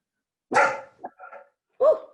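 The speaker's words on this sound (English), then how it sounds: "Oh, dog." A dog barks close by, a single sharp bark followed by a couple of softer yips and then another bark, in an otherwise quiet room.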